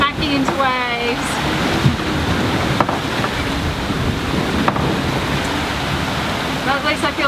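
A sailboat pounds through rough Atlantic seas in gusty, rainy weather, with a constant roar of wind across the microphone and waves breaking against the hull, plus a few sharp knocks and brief voice fragments.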